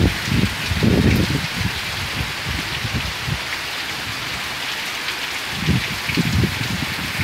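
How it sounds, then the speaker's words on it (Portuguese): Heavy rain pours steadily on a rural smallholding during a storm, a dense close hiss with gusty surges of louder drumming at the start and end; no one speaks. "Mas olha como tá a chuva."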